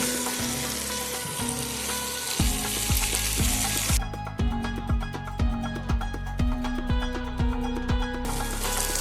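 Quail meat bhuna frying in a pan while it is stirred. There is a steady close sizzle, with a run of rhythmic scraping strokes against the pan and no voices.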